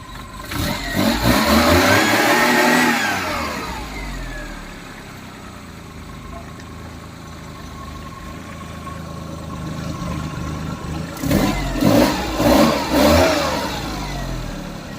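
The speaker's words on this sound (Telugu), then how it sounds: "ఒక్క నిమిషం ఇంజన్ కూడా స్టార్ట్ చేస్తా" A 2001 Maruti 800 petrol car engine catches and revs loudly up close, settles into a steady idle, then is blipped through several sharp rising revs near the end.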